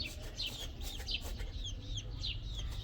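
Hens and roosters clucking and calling in a farmyard, with repeated short squawks over a steady low background rumble, fairly distant, no speech.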